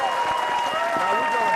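An audience applauds in a steady wash of clapping, with a voice talking over it at a fan event.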